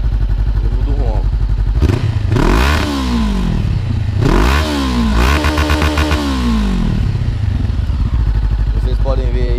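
A Honda CB500X fitted with a Roncar TRS2 Way+ exhaust in its louder mode, revved close up while parked indoors: an idling rumble broken by three sharp throttle blips that rise and fall, with someone speaking over it.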